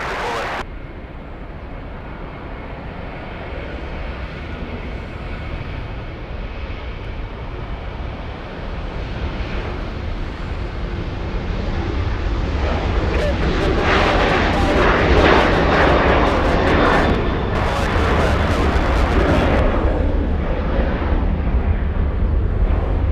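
A Frontier Airbus A320 arrives at LAX from Salt Lake City with a loud, steady jet roar that swells and grows stronger through the second half, with no talk over it.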